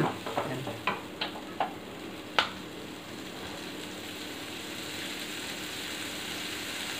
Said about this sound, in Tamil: அந்த மிளகாய், அப்புறம் வெந்தயம் இதெல்லாம் போட்டு நல்லா கொஞ்சம் கலக்கணும்.